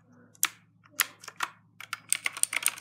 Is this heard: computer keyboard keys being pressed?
yes